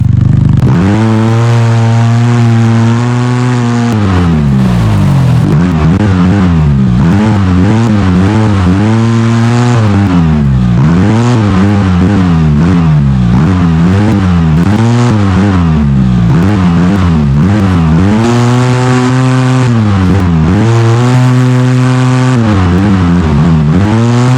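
A UTV engine in the off-road driving game Overpass labors through mud, its loud, steady drone rising and falling in repeated revving swells as the throttle is worked, with no talking over it.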